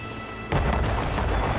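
Cannon fire in the naval combat of the video game Assassin's Creed Rogue, a sudden loud boom that launches into a sustained rumbling roar after a quieter lead-in.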